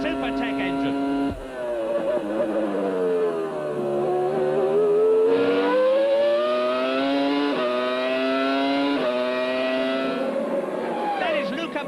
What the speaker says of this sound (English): Now just listen to that Supertech engine.